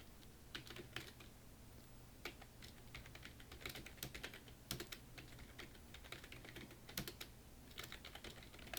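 Rapid keystrokes on a computer keyboard while text is entered in PowerPoint, a quiet, steady patter of clicks running the whole way over a low hum.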